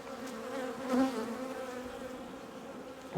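Honeybees circling close around an open hive during a spring inspection, a dense steady buzz of many wings with individual bees swelling louder as they pass near.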